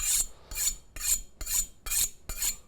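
A chef's knife blade tip is straightened with six quick, evenly spaced rasping strokes, each a short sharp scrape close by with brief silences between.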